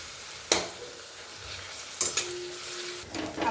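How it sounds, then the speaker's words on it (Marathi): Chopped onion sautés in a steel pan with a soft, steady sizzle, broken by a few sharp metallic scrapes and clinks as a spoon stirs it against the pan. "आपला कांदा असा छान असा तपकिरी रंगाचा होईपर्यंत आपण परतवायचा आहे"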